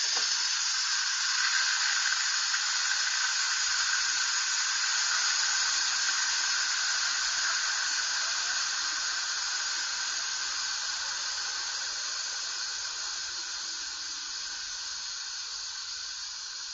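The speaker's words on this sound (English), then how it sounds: "This is called the quick release method. Please make sure that you are using a cooking mitt or towel to perform this operation, as the steam that will be coming out is very hot." Steam from an Instant Pot electric pressure cooker hisses out steadily during a quick release, a loud continuous spray that holds for the whole stretch and eases off only slightly toward the end.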